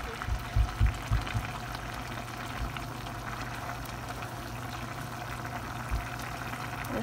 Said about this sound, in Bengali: এরকম মাছটা আরো কিছুক্ষণ ঢাকনা ছাড়া জাল দিব।